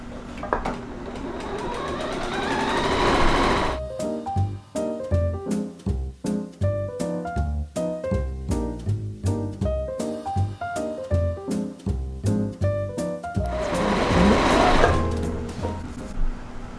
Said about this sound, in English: you will hear the sound of your sewing machine